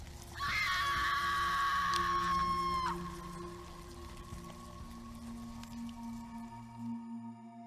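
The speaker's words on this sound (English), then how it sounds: "Screaming." A single long, shrill scream in a horror audio drama, loud and sustained for a couple of seconds before cutting off abruptly into a dark, quiet ambient hum.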